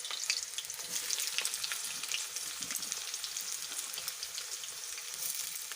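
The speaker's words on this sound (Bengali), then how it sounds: "এরকমভাবে ঠিক লাল লাল করে ভাজবেন যাতে মাংসটা ভালো টেস্ট হয় খেতে" Chicken pieces fry in a pan until reddish-browned, a steady, close hiss of sizzling oil with faint crackles and occasional stirring, no talk over it.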